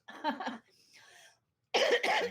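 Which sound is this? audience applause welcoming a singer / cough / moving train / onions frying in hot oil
cough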